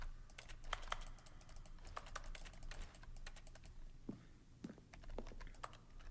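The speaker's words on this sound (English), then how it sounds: "each sound is a mixture of keyboard strokes and synthesized tones" Faint keyboard button sounds in The Stanley Parable video game, a quick irregular run of light clicky strokes mixed with soft synthesized tones, alone without speech.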